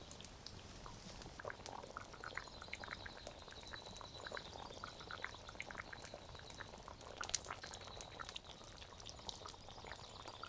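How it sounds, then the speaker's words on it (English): A pot of water boils outdoors for pasta, a faint continuous bubbling and crackling with scattered pops over a quiet natural background, no voices. "water is boiling, so we add some salt followed by the pasta."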